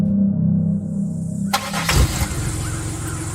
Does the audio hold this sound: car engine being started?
yes